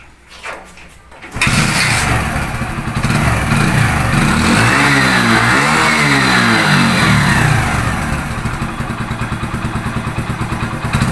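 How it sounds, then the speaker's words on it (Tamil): A Honda Splendor Pro motorcycle after half engine work fires up and revs hard, its loud, close exhaust holding a steady high drone with rising and falling revs before easing slightly at the end. "இன்னும் ஆஃப் இன்ஜின் வந்து சவுண்டு பாருங்கள், சூப்பராக இருக்குது."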